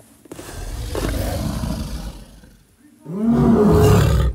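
A Parasaurolophus dinosaur call from a Jurassic World park setting: a loud, deep roaring bellow swells in twice, the second burst rising in pitch and holding as a resonant tonal moan after a brief quiet gap.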